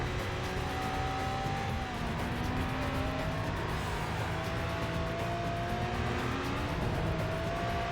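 A car driven in the Stuntman video game, overtaking oncoming traffic: a steady engine drone whose pitch rises and dips as it revs, continuous throughout with no talking.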